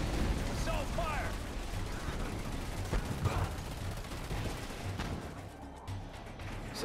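Rapid assault gunfire crackles through a dense real-time strategy battle in Command & Conquer 3: Tiberium Wars, fairly quiet and blended with explosions, mechanical unit noise and brief radio-style unit voices.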